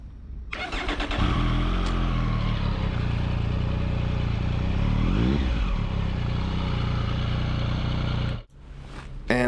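A Triumph Street Triple RS motorcycle engine fires up and runs loud and close, revving steadily with one rising and falling blip midway before cutting off abruptly near the end.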